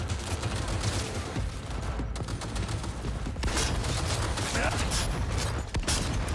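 Rapid gunfire crackles densely and loudly in the video game Cyberpunk 2077, with shotgun blasts and mechanical clatter mixed into a continuous firefight that barely lets up.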